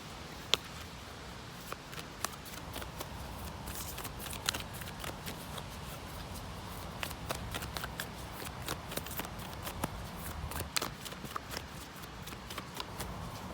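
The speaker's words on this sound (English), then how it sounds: "Let's pull one from the Moonology Oracle deck," A deck of Moonology Oracle cards is shuffled continuously, a soft, close riffling and sliding with small sharp flicks throughout, quiet and without talk.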